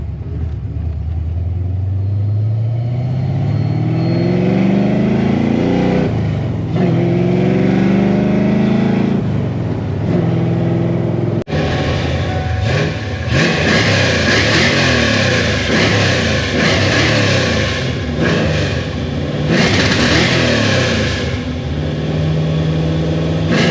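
Tuned car engine fitted with a Nitrous Express Proton nitrous kit and Holley EFI, revving loudly and close, with rising pitch sweeps, then a harsher, sustained high-rpm roar with fluctuating throttle.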